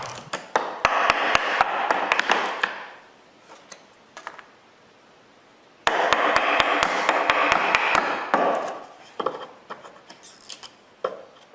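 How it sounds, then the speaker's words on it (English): Chisels cut into plywood in two stretches of rapid scraping and tapping, close and sharp, with scattered single knocks between them. "plywood doesn't cut well with chisels"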